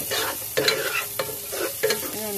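Onions sauté in oil in a pan for vegetable fried rice, with a loud steady sizzle broken by several sharp scraping stirs of a spatula across the pan.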